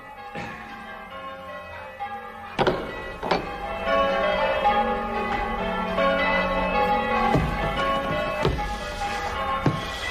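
Church bells ring inside a belfry, heavy clanging strikes falling at irregular intervals over a dense, lingering metallic hum that fills the space, loud and close.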